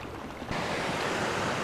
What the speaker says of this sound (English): we've now come up to beautiful waterfall